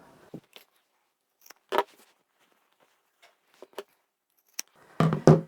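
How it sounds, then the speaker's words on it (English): Fabric corners are snipped off a sewn book pouch with scissors, giving a few sparse, quiet close cuts with gaps between them and a louder cluster of snips and handling at the end. "we can cut off these little ears now"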